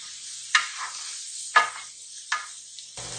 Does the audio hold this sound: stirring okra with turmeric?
yes